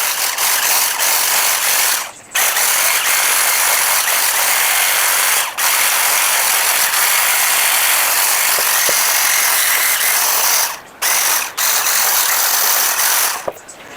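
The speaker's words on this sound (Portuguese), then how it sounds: "Agora eu vou bater toda essa massa no mixer." An electric mixer beats cake batter made with flour at its lowest speed, a loud steady whirring drone that runs almost without a break, dipping in brief moments as the beaters shift.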